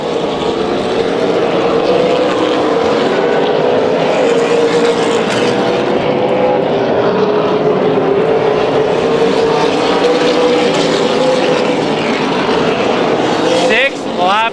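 Super late model race cars circle the Las Vegas Bullring in a steady, loud engine drone that holds throughout, with commentary voiced over the roar.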